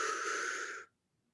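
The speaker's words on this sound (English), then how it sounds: "Breathe in." One long, steady inhale through the mouth during a breathing exercise, close and breathy with a hissy rush that stops sharply, followed by silence.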